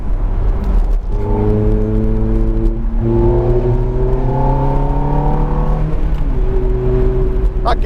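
A Ferrari F430 engine pulls hard through the gears, its steady loud drone rising in pitch, dropping at each shift and climbing again, heard from inside the car.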